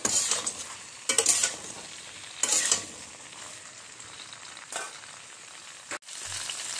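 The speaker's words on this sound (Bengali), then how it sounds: "সব ঝিঙেটা দিয়ে ভালো করে নেড়ে চেড়ে নিতে হবে।" Ridge gourd frying with nigella seeds in a pan, a steady soft sizzle punctuated by a few louder bursts of stirring and scraping, with a brief sharp clatter near the end.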